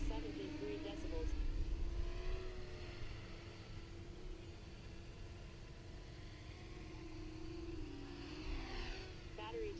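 A MHQ2 quadcopter fitted with 6 inch props hovers at low altitude, its motors giving a steady, sustained buzzing drone that wavers slightly in pitch as it climbs and settles, moderately loud and continuous throughout.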